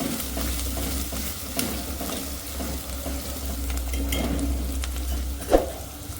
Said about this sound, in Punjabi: ਹੁਣ ਅਸੀਂ ਇਹਦੇ ਵਿੱਚ ਅਦਰਕ ਦਾ ਪੇਸਟ ਪਾ ਦੇਵਾਂਗੇ ਅਦਰਕ ਤੇ ਲਸਣ ਦਾ ਤੇ ਇਹਨਾਂ ਵੀ ਅਸੀਂ ਮਿਕਸ ਕਰ ਦੇਵਾਂਗੇ ਪਿਆਜ਼ਾਂ ਦੇ ਵਿੱਚ